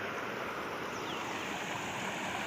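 A stream rushes steadily into the overflowing Mahalakshmi lake at Peth Vadgaon, a dense, even roar of flowing water with no pauses or voices.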